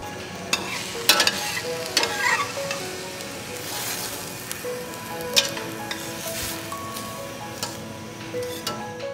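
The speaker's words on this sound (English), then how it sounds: "What we've got here is some garlic, onions and peppers, and we're sauteing them a little bit just to soften them up" Garlic, onions and peppers sautéing in a pan during a tomato canning class, a continuous crackling sizzle broken by repeated scraping and clinking of a utensil being stirred.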